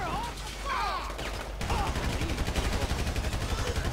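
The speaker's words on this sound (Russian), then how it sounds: "Взорвали этого, убили." Explosions and a fusillade of gunfire in Grand Theft Auto 5, a rough burst early on giving way to dense, steady rapid shots that fill the rest of the stretch at close range.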